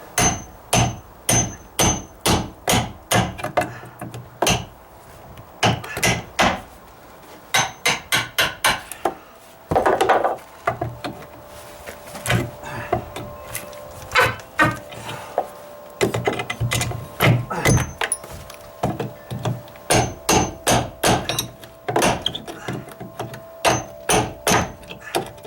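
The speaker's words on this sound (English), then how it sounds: "I use my cat's paw for that because they just toenailed them in." Repeated sharp metallic hammer strikes drive a cat's paw nail puller under toenailed nails in a dry-rotted wooden deck, coming in quick bursts with short pauses and creaking pries between them, close and loud with no talking.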